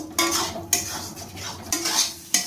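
Potatoes with spices are stirred and fried in a pan, a spatula scraping the metal in four rhythmic strokes over a soft underlying sizzle, close and clear with no speech.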